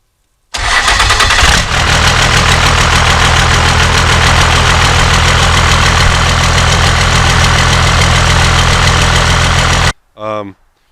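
A truck engine fitted with a turbo fires up for the first time after repair and runs loud and rough at a steady idle for about nine seconds before cutting off, followed by a brief burst of a voice.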